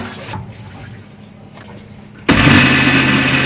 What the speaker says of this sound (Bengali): এইটাকে এখন আমি গ্রাইন্ড করব